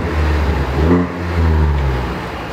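Ford ST with a modified exhaust revs up, a deep, throaty engine note swelling near the mic, easing back, then rising again over about two and a half seconds.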